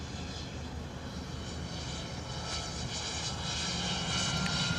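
A Bombardier business jet at a misty London Luton Airport, its engine roar a steady broadband rumble that builds slightly toward the end, with no voices over it.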